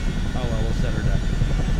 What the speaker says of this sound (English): You hear when I pitch forward, you hear the whine.